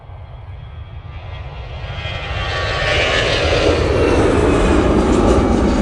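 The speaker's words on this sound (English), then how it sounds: "EasyJet to Innsbruck now, departing." An EasyJet jet airliner departs Manchester Airport, its engine roar swelling from a distant rumble into a loud, broad, sustained thunder as it climbs away, with no talk over it.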